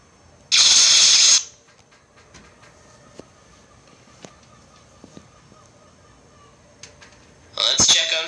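Electric shocks zap Ballora in Five Nights at Freddy's: Sister Location, two loud buzzing crackles, one lasting about a second near the start and a shorter one at the end, with quiet mechanical ambience and faint clicks between.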